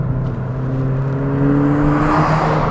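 Ford Fiesta ST hot hatch engine pulling hard in second gear, a loud, steady, close engine drone whose pitch rises smoothly as it accelerates.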